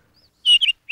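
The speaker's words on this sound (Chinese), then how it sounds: "鸟叫声真动听啊。" Birds chirping in quick, bright tweets, a short burst of two or three close chirps after a faint call, brief and clear with no talk.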